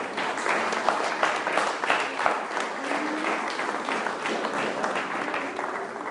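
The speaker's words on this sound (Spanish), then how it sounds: "Denle un aplauso a Cristo Jesús." Congregation applauding together in a church service, a steady dense wash of many hands clapping at moderate distance that carries on without a break throughout.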